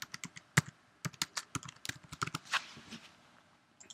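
Fingers typing a short event name on a computer keyboard, a quick irregular run of crisp, close keystrokes with brief pauses, fairly quiet and heard alone.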